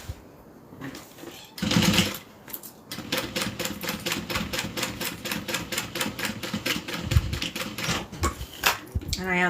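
A sewing machine stitches down small side pieces in a run of fast, rhythmic mechanical clatter, close and steady, after a few short starts and stops.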